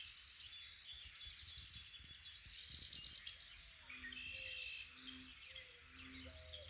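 Dawn chorus beside a country pond, with doves, red-winged blackbirds and frogs calling at once: dense high chirps and trills layered over low repeated croaks and coos, steady and moderately distant.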